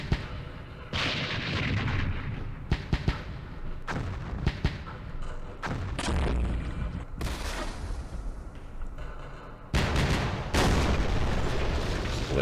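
Artillery fire in the Vietnam war game Campaign Series Vietnam, Battle of Hue: repeated heavy booms and blasts in irregular bursts, loud and close, with a voice talking between them.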